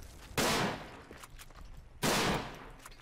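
Two loud, sharp rifle shots about a second and a half apart from the WWI shooter game Verdun, each with a short decaying echo, alone without talk.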